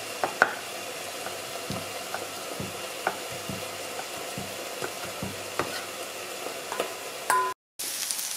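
Garlic frying gently in a little oil in a pan, a soft steady sizzle with scattered small clicks and taps of a utensil, fairly quiet and close, with a brief cut to silence near the end.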